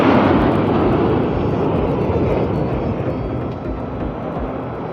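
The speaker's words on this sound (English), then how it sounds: "Bajrang formation में 6 Rafale विमान।" Six Rafale fighter jets of the Indian Air Force flying past in formation over a Republic Day parade, a loud continuous roar of jet engines that slowly fades as the aircraft move away.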